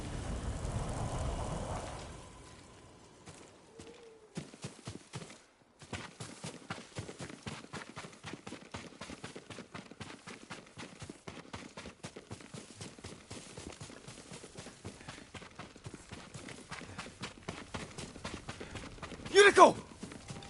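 Rapid, steady hoofbeats of a galloping horse in the video game Ghost of Tsushima run through most of the clip, with a brief loud burst near the end.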